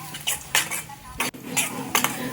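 A spoon scrapes and clinks in short bursts against a pan as spices with Kashmiri red chili roast with tomatoes, over a low sizzle. The bursts are uneven and close, with no talk.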